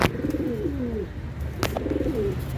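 Pigeons kept for sale coo in two rolling, throaty phrases with a short pause between them, close and clear with no voices over them.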